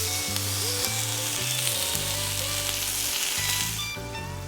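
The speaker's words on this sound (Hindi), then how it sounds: "सॉसेस को पैन में डालें और हल्का सा दबाएं ताकि वे थोड़ी तेजी से पक जाएं।" Sausages fry in a pan with a steady, close hiss and crackle, while tonal background music plays over the sizzle.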